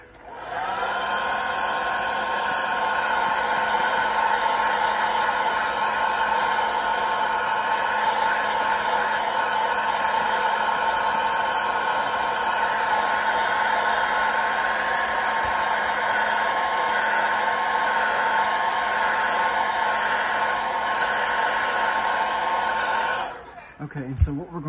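Heat gun blowing hot air to set fingernail polish on a freshly dipped fishing crankbait, a steady loud whooshing drone with a whining tone that runs unbroken for over twenty seconds, then cuts off abruptly.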